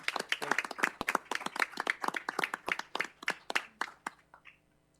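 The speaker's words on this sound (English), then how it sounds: "round of applause for everything they do" A round of applause at a city council regular meeting, a small group clapping in brisk, overlapping claps from moderate distance, tapering off near the end with no talk.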